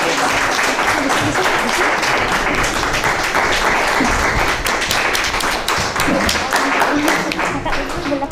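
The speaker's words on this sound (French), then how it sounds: "on va vous applaudir bien fort" Sustained applause from an audience after the final scores at a school competition, a dense steady wash of clapping with some voices mixed in throughout.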